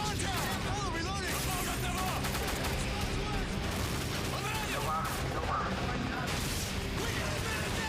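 Heavy gunfire erupts in Call of Duty, with dense overlapping shots and mechanical clatter at constant high volume, while voices shout over the battle.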